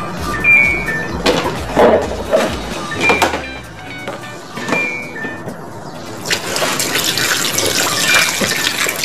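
Fish being washed under a running tap. The water starts faint and spattering, then gushes steadily and close, with occasional clinks and knocks of handling mixed in.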